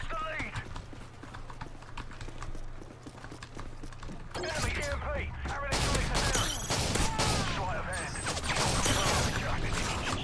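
Gunfire in Modern Warfare 3, rapid bursts of automatic shots crackling through the later half of the stretch, dense and loud against a busy game soundscape, with a player talking at times.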